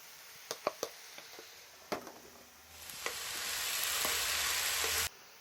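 Onions fried in oil with salt for a curry, beginning with a few sharp clicks and taps of stirring, then rising into a strong, steady sizzle that cuts off abruptly near the end.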